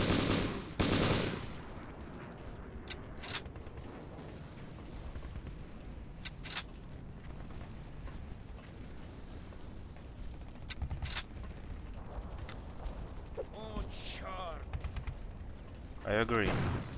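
Gunfire in the video game M.I.A.: Mission in Asia, with sharp shots and short bursts at scattered moments over a steady background, some loud and close, others fainter.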